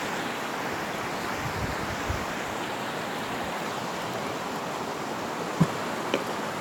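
A river flows outdoors with a steady, broad rushing wash of water, continuous and even, with a couple of faint brief knocks near the end.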